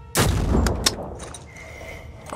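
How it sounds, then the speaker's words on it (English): A burst of gunfire in the turn-based video game Phoenix Point, one loud close blast followed by a sharper crack and a fading echo. "Shoot this thing again. Fire."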